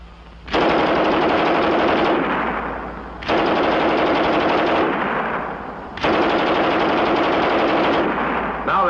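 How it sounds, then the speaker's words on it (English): A German MG 34 machine gun in a video game fires three long, rapid bursts separated by brief pauses, loud and close with no voices. "here's their 34"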